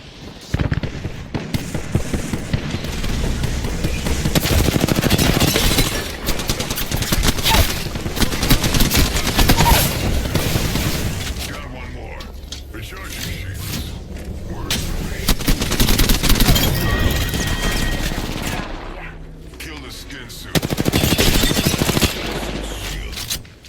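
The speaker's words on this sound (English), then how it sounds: "The enemies are shooting." Enemy gunfire in the battle royale shooter Apex Legends: loud, dense bursts of automatic shots and rapid cracks come in waves across the whole stretch, with brief lulls in between, mixed with other game noise.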